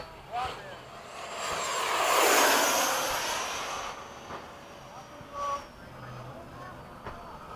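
A Freewing 80mm F-5 RC jet makes a low pass from right to left, its ducted-fan whine swelling to a loud peak and then fading as it passes. Brief voices and exclamations are heard over it.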